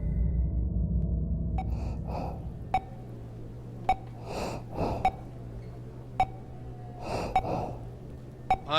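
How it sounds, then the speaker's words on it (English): A sick character in a hospital video game breathes heavily, with slow, labored gasping inhales and exhales repeated close up, punctuated by sharp clicks and a faint low hum, no one speaking. "I am breathing pretty heavily."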